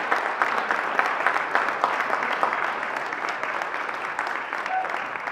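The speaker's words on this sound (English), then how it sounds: "let's give everybody here and the community of Myrtle Beach a round of applause" Steady audience applause at a community gathering about an interstate highway for Myrtle Beach, many hands clapping in a continuous, fairly loud wash from start to finish.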